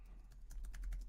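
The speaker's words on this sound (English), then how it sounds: "you're typing faster than me" Quick typing on a computer keyboard, a fast run of light clicking keystrokes, faint and close, with no speech over it.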